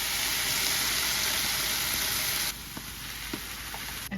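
Steady loud sizzle from a pan of sauce as tomatoes and a bay leaf go in, the hiss dropping noticeably partway through with a few small clinks and stirring sounds after.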